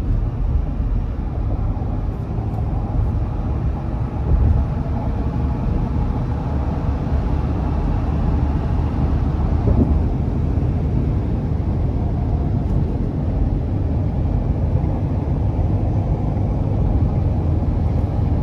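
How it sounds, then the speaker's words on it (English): A 2023 Ford F-350 XL heavy-duty pickup with its 6.7-litre turbo engine pulls under throttle, a deep, continuous rumble heard from inside the cab, with road noise and a slight swell in intensity as it accelerates. "Let's give it a little throttle here."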